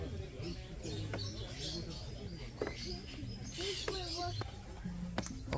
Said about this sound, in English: Got a bunch of birds chirping super loud.